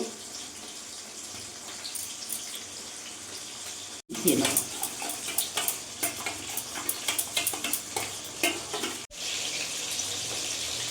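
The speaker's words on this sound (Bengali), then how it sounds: "এর মধ্যে এক চামচ ভিনিগার দিয়ে দিলাম ভালো করে মিশিয়ে নিলাম" Chilli chicken is stirred in a pan with tomato sauce, soy sauce and vinegar, making a wet, bubbling sizzle with scraping strokes that grows louder after a short pause, with a faint voice now and then.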